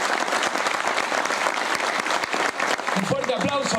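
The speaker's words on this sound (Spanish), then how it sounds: "Y un fuerte aplauso." An audience at a university's 30th-anniversary event bursts into loud, sustained applause, dense continuous clapping that carries on for several seconds before tapering slightly at the end.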